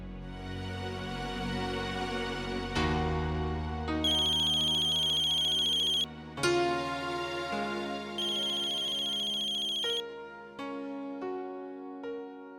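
A phone ringtone plays a repeating electronic melody loudly and close for the whole stretch, one phrase following another while the call goes unanswered, with no voices.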